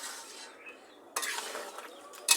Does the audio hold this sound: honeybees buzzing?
no